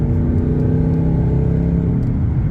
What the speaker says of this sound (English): Now listen to the exhaust.